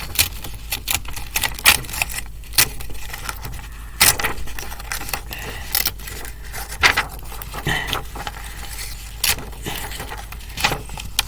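Paper torn along dotted fold lines while making a paper airplane, heard as repeated short, crisp ripping bursts in an uneven rhythm that run throughout.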